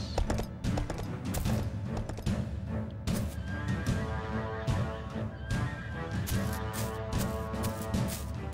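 A horse neighs loudly in a video game, a long whinny over busy clattering and tapping game sounds, close and prominent throughout.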